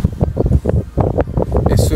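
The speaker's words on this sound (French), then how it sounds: "Et ce vent en plus" Wind buffeting an old iPhone's microphone outdoors, a continuous rough low rumble and rustle throughout with gusty swells, close and fairly loud.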